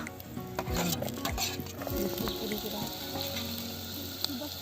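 Chopped onion dropped into hot oil in a pot at an outdoor countryside cooking session for a chicken dish, giving a steady, close sizzle with stirring and scraping clatter throughout.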